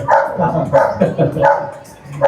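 A police K9 dog gives a quick run of close, loud barks at a training demonstration for police and rescue dogs. Speech overlaps the barking.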